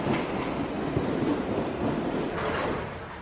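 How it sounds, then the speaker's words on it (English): A London Underground train rumbles into a station, a loud steady roar with faint high squeals of wheels braking on the rails. "Here comes the train."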